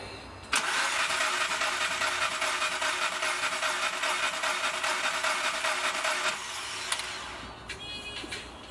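A Skoda Fabia 1.4 engine cranks on the starter for about six seconds with the throttle held wide open during a compression test, a loud steady whirring churn that cuts off abruptly, followed by faint clinks.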